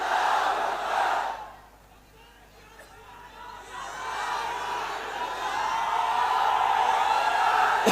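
Large crowd at a Malegaon political rally roaring a loud, sustained collective chant, dipping briefly then swelling again to a dense, continuous wall of voices.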